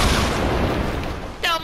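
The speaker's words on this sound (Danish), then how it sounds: "Skyd, Emil, skyd en hel masse skud." Gunfire in the video game Fortnite Battle Royale: a loud, rough burst of shots fills the moment, followed by another sharp blast.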